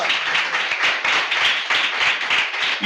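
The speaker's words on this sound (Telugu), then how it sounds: "చప్పట్లు కొట్టు ప్రభువుకి, కొట్ట చప్పట్లు" A church congregation claps for the Lord at a Sunday service, a dense, rhythmic burst of many hands close by with no voices over it.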